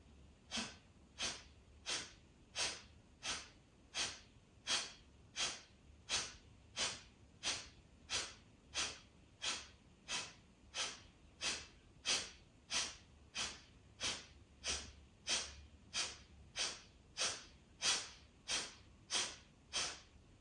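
Forceful nasal breathing strokes for clearing congestion: about thirty sharp, evenly spaced exhalations through the nose in a steady, quick rhythm, close and alone.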